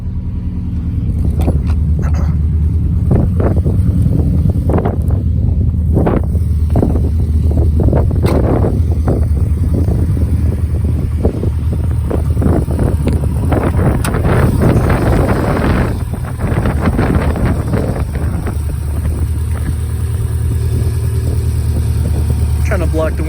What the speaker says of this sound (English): Trying to block the wind a little bit.